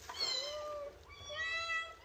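A cat meows twice at a wild outdoor cooking spot, two soft, fairly close, rising-and-falling cries heard alone against faint background noise.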